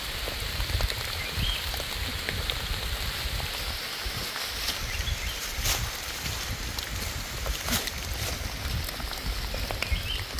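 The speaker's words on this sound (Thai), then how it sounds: "ฝนตกแล้วค่ะพี่น้องฝนตกฝนดีคัก" Steady rain pours down outdoors along a roadside in Thailand, a dense even hiss of drops on surfaces running throughout with no talking.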